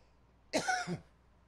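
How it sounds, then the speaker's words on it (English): One short, close cough, a quick burst of breathy throat noise in an otherwise quiet room. "I'm about to cough."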